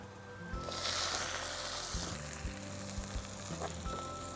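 Fish meat goes into a hot pan with garlic and chilies for catfish fried rice, setting off a loud burst of sizzling that settles into steady frying with the light scrape of stirring.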